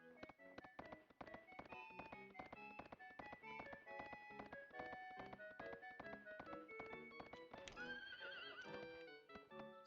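A horse whinnies with a rising, pitched neigh amid steady clip-clop hooves and bright musical tones from Suikoden III, a role-playing video game, with the hoofbeats playing fast and even throughout.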